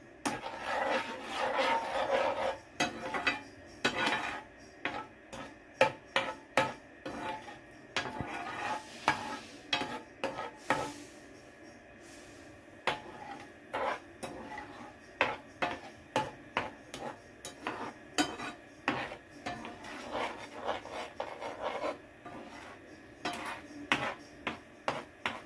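Spoon repeatedly scraping and stirring sugar with condensed milk as it heats in a pan, a steady rhythmic rubbing with soft sizzle, close and fairly quiet, no talking.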